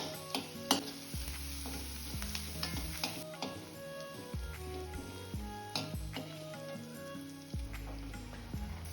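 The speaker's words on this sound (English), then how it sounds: "Then you add onions and chopped crushed ginger garlic. Stir continuously." Onions with crushed ginger and garlic fry in unsalted butter in a pan, a steady sizzle running throughout while a utensil stirs and scrapes with repeated knocks and clatters up close.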